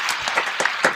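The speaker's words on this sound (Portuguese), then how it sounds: "palma pra elas, por favor, elas merecem palmas" Audience clapping in a Portuguese-language podcast studio, a short burst of brisk, scattered applause from a small group, fairly close.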